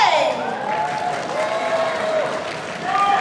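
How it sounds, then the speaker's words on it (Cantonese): Audience applause at a press launch for a graduation concert, a steady, dense clapping that fills the clip from start to finish and swells slightly at the end, with faint voices mixed into the crowd. "俾多啲掌聲。"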